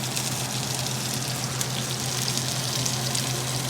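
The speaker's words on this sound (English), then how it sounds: "Go ahead, put the lemon juice in now and let it all boil up." Lemon juice squeezed into a hot pan bubbles up with a steady, loud sizzle and crackle, a continuous frying hiss close by with a low hum underneath and no talk.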